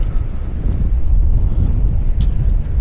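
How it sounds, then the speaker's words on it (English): Strong wind buffeting the microphone on a walk at St Bees Priory, Cumbria, a continuous low rumbling roar with gusty surges and no voices. "God, it's windy."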